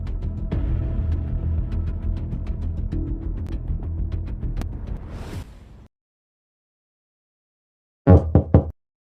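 Repeated knocking on a door comes in a long, loud burst of rapid thumps, then a pause of silence and a second short, hard flurry of knocks.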